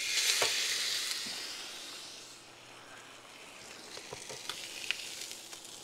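A tomahawk steak drops into a wood-fired pizza oven and sears with a loud, close sizzle and hiss that gradually eases into steady crackling and spitting.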